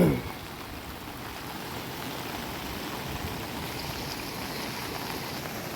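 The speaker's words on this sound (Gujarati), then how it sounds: "જોઈ લ્યો પૂર છે" Floodwater after heavy monsoon rain rushing through a garden, a steady broadband wash of flowing water that stays even and fairly close throughout, with no voices.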